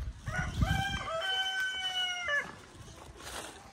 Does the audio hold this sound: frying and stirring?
no